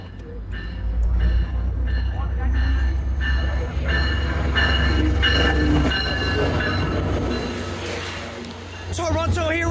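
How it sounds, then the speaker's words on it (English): Train passing on rails in Toronto, loud and close, a sustained rumble with rhythmic clacking and squealing wheels that fades toward the end, with voices talking over it. "Where's the train, man?"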